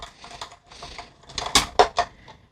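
A die cutting machine feeds a sheet of adhesive-backed gold paper through its rollers, giving a few soft mechanical rumbles followed by a cluster of sharper clicks and clunks near the end, close and fairly quiet.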